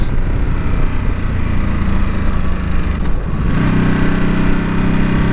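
A 2021 Ducati Supersport 950 S motorcycle engine hums steadily while riding through town at low speed, a continuous near rumble that shifts in tone about three seconds in, with no talking.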